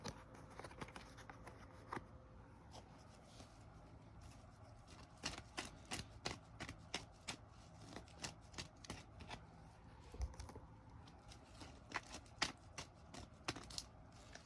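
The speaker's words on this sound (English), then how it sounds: "let's pull some more cards here" Tarot cards shuffled by hand in quick, quiet bursts of soft riffling snaps and taps, irregular and close.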